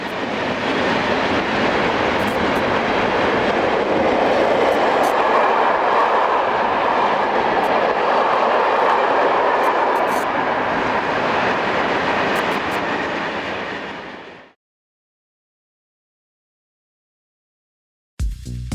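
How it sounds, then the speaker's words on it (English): Swiss Re 6/6 (Class 620) electric locomotive 11636 hauling a short parcels train towards Basel on the Gotthard route, a broad rushing roar that swells and holds, then cuts off abruptly into silence. "Here 11636 heads a short parcels train towards Basel."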